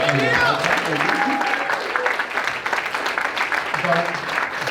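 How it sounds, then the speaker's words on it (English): Crowd applause for the groom during wedding speeches, a dense steady clatter of many hands filling the room, with voices mixed in. "Can I get a round of applause for the groom?"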